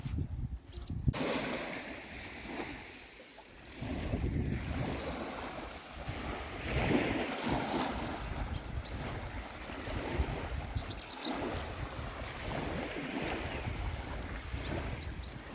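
Sea waves washing onto the beach at Karaincirli village near Enez, a steady, moderately quiet surf with wind buffeting the microphone throughout.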